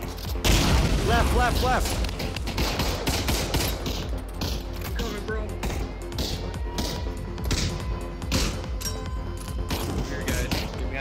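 Gunfire in a Pavlov VR WW2 push battle: loud, rapid bursts of rifle and machine-gun shots with booming blasts close by, continuing without pause while a player calls out directions over the shooting.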